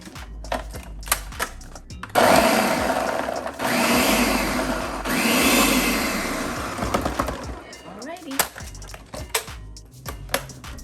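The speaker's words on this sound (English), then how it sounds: "we're gonna put our whole sweet onion in here, and we're going to process that" A food processor chops a whole sweet onion in a kitchen, with loud whirring pulses that start, pause and restart, set among clattering and handling noises.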